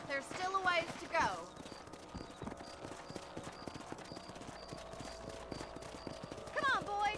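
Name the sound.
horses galloping hooves in Red Dead Redemption video game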